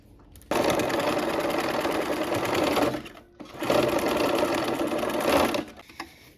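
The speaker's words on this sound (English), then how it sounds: "And then we'll sew these 2 together." A sewing machine runs in two sustained bursts with a short pause between, a fast mechanical whir while stitching quilt pieces together along a nested diagonal seam, close and clear.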